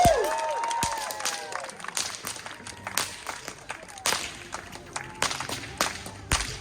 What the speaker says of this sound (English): Come on guys, make some noise for Bruce.